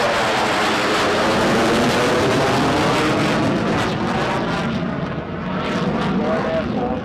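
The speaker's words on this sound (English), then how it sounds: "Royal Air Force, Typhoon display 2025. Full reheat from those EJ200 engines" RAF Typhoon FGR4 fighter jet at the Blackpool Air Show 2025 with its twin EJ200 engines in full reheat, a loud, sustained broadband roar that swells and shifts as it passes, with faint voices underneath.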